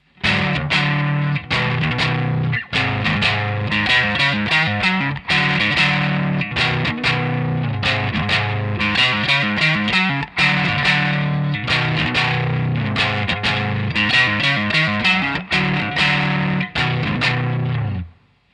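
Heavily distorted electric guitar with a touch of chorus plays a song's verse, a steady, driving run of choppy chords shifting one small shape around the neck, loud and unaccompanied for nearly twenty seconds.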